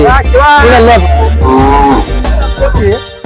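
A Khillar bull moos loudly and close by at the Lasur cattle market, several long, drawn-out lows in a row.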